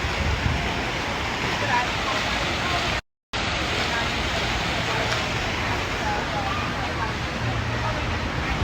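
A loud waterfall roars steadily and close by, a dense broadband rush filling the whole stretch with only a brief dropout partway through.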